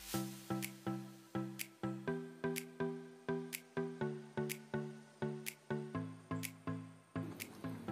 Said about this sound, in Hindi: अब इसको अच्छे से मिक्स करते हैं